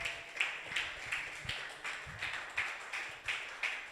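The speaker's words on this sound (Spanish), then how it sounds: "Dale un fuerte aplauso a mi Señor" A church congregation at a Spanish-language worship service claps in a steady, rhythmic beat, with roughly ten sharp claps in unison at a moderate distance and no voices over them.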